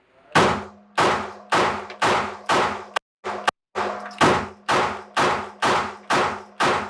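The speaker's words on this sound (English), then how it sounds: "I'm gonna run 100 rounds through it, see what it does." Langdon Tactical P30 LEM pistol firing a string of shots outdoors, about a dozen sharp loud reports in a steady rhythm, each ringing out with a short decay, a brief pause partway through.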